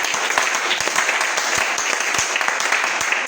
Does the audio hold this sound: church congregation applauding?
yes